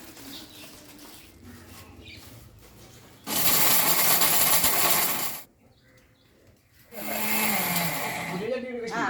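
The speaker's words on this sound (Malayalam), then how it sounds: "ഇതിപ്പോൾ മിക്സിയിലിട്ടാണ് പൊടിക്കുക" A kitchen mixer grinder powders peanut oil cake in loud whirring bursts that start and stop, with quieter stretches between runs.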